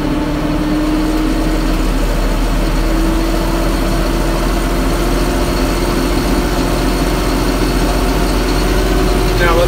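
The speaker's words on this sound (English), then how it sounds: "go ahead and turn the PTO on. That'll turn the pump on back there." A John Deere 5075E tractor idles steadily with its PTO engaged near 600 rpm, driving a Vans 85-gallon sprayer pump; a constant close engine drone with a faint whine runs unbroken throughout, with no talk over it.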